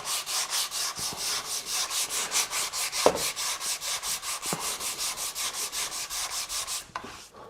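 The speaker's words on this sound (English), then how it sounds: "This is like a moldable kind of sanding pad" Steady back-and-forth rubbing of a moldable sanding pad on a wooden cove, a rhythmic scratchy swish repeating about four times a second, close and continuous.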